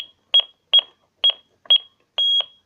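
Lynx Plus alarm keypad beeping during disarming: five short, loud, close electronic beeps, most doubled, spaced about half a second apart, ending with one longer held tone.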